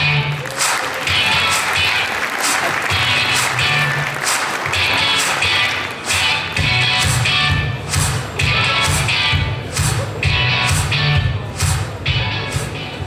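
An audience at a talk applauds to welcome two speakers onto the stage, a steady stretch of clapping close by with a few voices mixed in, ebbing slightly before picking up again.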